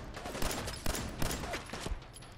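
Rapid bursts of gunfire from the game Fallout 4, several sharp shots cracking out in quick succession over a dense, continuous combat backdrop, loud and close.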